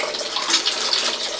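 Strong, steady rush of tap water from a faucet in a home in Laguna during a typhoon, loud and close, a continuous broadband hiss with no pauses.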